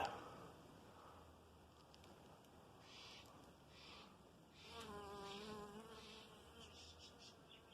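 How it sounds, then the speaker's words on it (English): Bees hum and buzz faintly in the open air, their drone rising and falling as they drift close and away, with no one speaking. "Bees are loving it."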